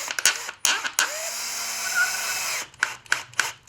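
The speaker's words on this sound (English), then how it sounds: "I've got the torque setting on the screwdriver set a little bit lighter" A cordless screwdriver drives screws into soft reclaimed pallet wood, with short bursts of bit whine and clicks followed by one longer sustained run of the motor, close and moderately loud, with no speech.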